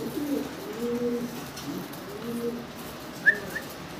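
Pigeons coo softly and repeatedly in low, rolling calls, close by, with a brief bird chirp near the end and no one talking.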